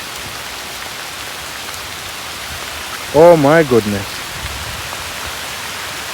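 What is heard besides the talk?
rain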